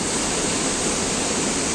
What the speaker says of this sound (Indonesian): Ini Sungai Ciwidey, guys.